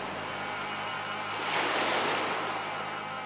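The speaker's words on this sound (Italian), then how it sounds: "Siamo in una giornata di mare e di vento" Sea waves wash in steadily on a windy day on the Sardinian coast, with broad surf noise swelling louder in the middle and wind rushing over it, no voices.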